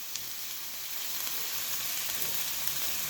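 Spicy garlic chili pork sizzling loudly in a hot pan as it is stirred, a dense, steady close-up hiss with faint scraping, no voices.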